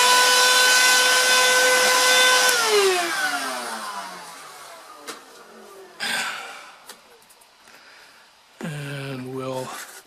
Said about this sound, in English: I'm going to get my vac.